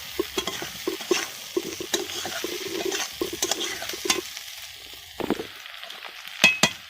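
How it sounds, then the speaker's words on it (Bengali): Paneer cubes tossed into a masala in a pan for a cashew paneer curry, stirred with a steady low sizzle and repeated scraping clatters of a spoon against the pan, close up with no talking. "এইবার আমি পনিরটাকে দিয়ে দিলাম, হালকা নাড়াচাড়া করে নিচ্ছি।"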